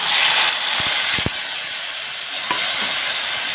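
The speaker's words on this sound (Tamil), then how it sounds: "நம்ம சேர்த்ததெல்லாம் ஓரளவுக்கு நல்லா வதங்கிட்டு இருக்குது" Red and green chillies, ginger-garlic paste and tomato sautéing in a hot pan for cauliflower gravy, giving a steady close sizzle and hiss with a few soft stirring knocks and no voices.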